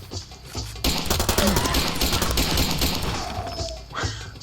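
Gunfire from a gun in the video game Far Cry 2: a loud sustained burst of rapid shots starting abruptly and running for several seconds, tapering off at the end.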